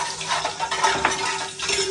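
Ginger sizzles in hot oil in a large pot while crab is being cooked, with a continuous frying hiss and the scrape of a utensil stirring close by.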